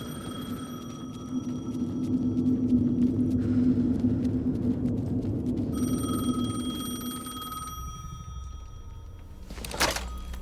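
A telephone rings in the video game Alan Wake 2, a steady electronic tone over a low droning game ambience, followed by a sharp thunk near the end.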